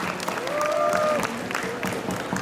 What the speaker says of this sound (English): from institutes outside of Punjab, a round of applause.